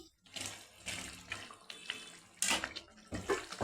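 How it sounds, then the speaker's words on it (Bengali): Fish pieces are stirred into boiling water in a cooking pot for doi katla. The water sloshes and splashes in uneven bursts close by, with no voices. "জলটা আমার ফুটে গেছে আমি এই মাছটা একটু দিয়ে দেবো"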